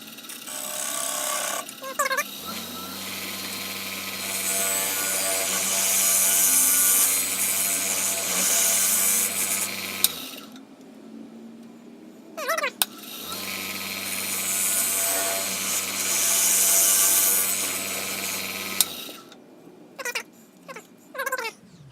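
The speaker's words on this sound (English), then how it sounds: "we're just going to use a square carbide tool to come in here and take some of this down till we get rid of that divot" Square carbide tool cutting a camphor wood bowl on a lathe, two long passes of loud hissing scraping over a low motor hum, separated by brief quiet gaps and short knocks.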